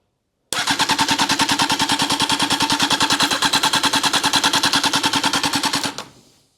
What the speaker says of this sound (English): Luckily the engine is actually not seized and it sounds really healthy.